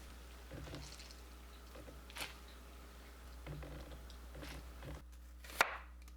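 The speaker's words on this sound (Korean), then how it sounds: "양파를 채 썰어주세요." Onion being sliced into thin strips with a knife on a board gives soft, faint, irregular taps, ending with one sharper click, quiet and alone.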